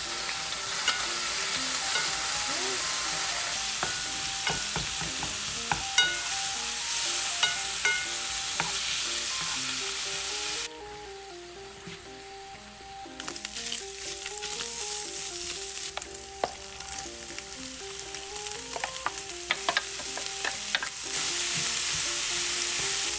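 Bacon sizzles and fries steadily in a pan, a loud continuous crackle with occasional stirring or turning sounds, dipping briefly midway before resuming at full intensity.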